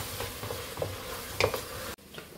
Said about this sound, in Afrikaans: En dan gaan ek hom verder net braai vir seker nog so 5 minute.